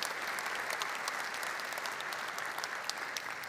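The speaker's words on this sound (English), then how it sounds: "that deserves applause" A large investor summit audience applauds in a steady, dense burst of many hands clapping at once, sustained and fairly loud throughout.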